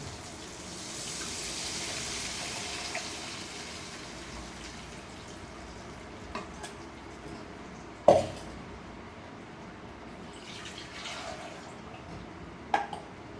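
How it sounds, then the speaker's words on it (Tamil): Tamarind water poured into a simmering tomato curry (kara kuzhambu), a steady wet splashing hiss with a few sharp clinks of utensils against the pot, close and moderately loud, with no talking. "இப்போ புளி ஊற்றிக்கலாம்"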